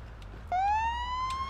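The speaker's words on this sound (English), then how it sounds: "You hear that siren?" A police car siren in a video game starts abruptly partway through and holds a steady rising wail over a low engine rumble, fairly loud and close.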